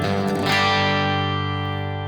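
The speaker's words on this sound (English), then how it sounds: "like awesome reverb from back in the day" Electric guitar chord ringing out through an 80s-style reverb setting on a Strymon Flint pedal, loud and lush with a long, shimmering wash that sustains and slowly fades across the whole stretch, no talking.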